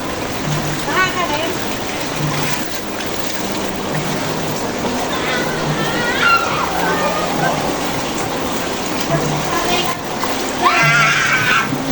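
Floodwater from Typhoon Carina rushes and splashes steadily into a house, like a strong flow pouring through, with voices talking over it and occasional squeaky sounds.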